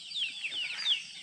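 Chickens cluck and chatter nearby at a rural spot in Theni district, India, a few short high squawking calls close together, moderately quiet with no talking.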